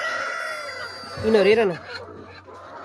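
Local farmyard chickens and a rooster cluck close by, a loud rising-and-falling rooster call in the middle over a steady background of hens, with a person speaking briefly.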